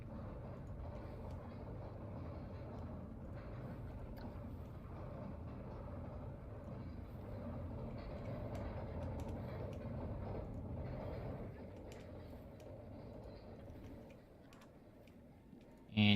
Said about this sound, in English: And you hear the clickety-clack up the lift.